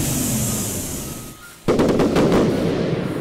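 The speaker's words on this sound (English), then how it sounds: "let me shoot fireworks off" Fireworks go off in the Roblox game Lumber Tycoon 2: after a quieter stretch, a quick series of loud, crackling bursts fires in rapid succession and ends in a dense, sustained popping barrage.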